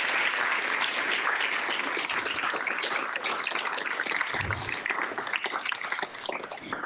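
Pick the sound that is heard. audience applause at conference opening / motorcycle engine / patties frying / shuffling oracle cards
audience applause at conference opening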